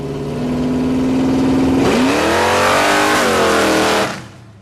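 Flame Fox drag car accelerating down an airport runway, a loud close engine roar climbing in pitch through a gear change before cutting off abruptly.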